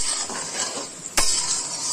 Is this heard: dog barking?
no